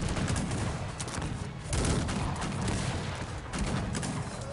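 Dense, continuous battle din from Cossacks 3, a 1v1 Turkey versus Algeria match: cannon and musket fire overlap in rapid volleys and booms, loud and steady with no talk.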